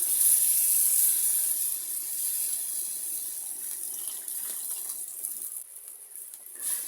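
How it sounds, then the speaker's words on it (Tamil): Thin coconut milk is poured into a pan of spicy garlic curry, making a steady close splashing trickle with no voices. The flow eases and thins toward the end. "தண்ணிப்பால் கொஞ்சமும் விடுவோம்."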